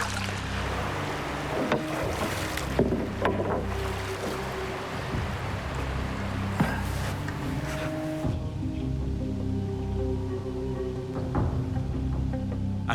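A canoe being paddled across open water in a remote wilderness setting, with steady splashing strokes and water lapping against the hull over a constant low rumble, no voices.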